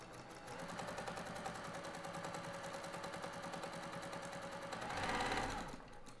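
A domestic sewing machine runs steadily, stitching fabric pieces for a quilted table runner, a close, even rapid whirr with a fast mechanical chatter that swells briefly near the end before easing off, with no one talking.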